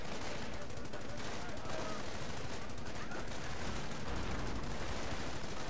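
Rifle and machine gun fire in the Company of Heroes strategy game: dense, continuous rattling bursts and crackling shots filling the whole stretch, with someone talking over the battle.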